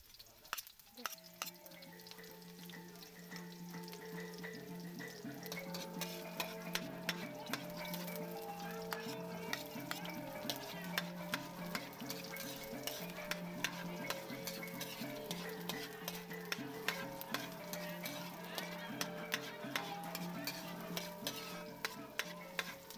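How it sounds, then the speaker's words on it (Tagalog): Garlic, onion and ginger sauté in hot oil on a home stove, giving a steady, close sizzle that runs the whole time, with occasional stirring clicks and a faint tonal hum underneath. "Nagpainit na rin pala ako ng mantika sa kalan pagkatapos ginisa ko na ang bawang, sibuyas, tapos ang luya"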